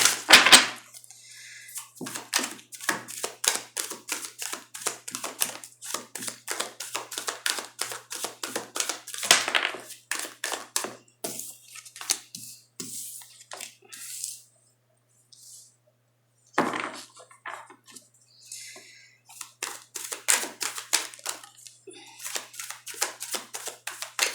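Rapid clicking and riffling of tarot cards being shuffled, in repeated bursts with brief pauses, close and crisp throughout.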